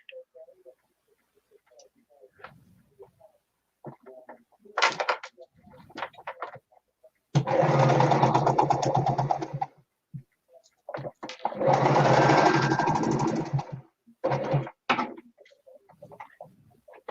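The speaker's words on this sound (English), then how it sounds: "I'll sew it in this one." Domestic sewing machine stitching at home, two sustained bursts of steady rapid whirring near the mic, separated by quieter handling clicks and faint shuffling.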